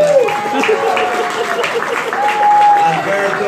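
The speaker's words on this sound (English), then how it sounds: "Let's give them a nice round of applause." Crowd applause at the Laugh Factory's annual free Christmas dinner, a brief steady burst of clapping heard under and around a person speaking with a tonal, whistling quality.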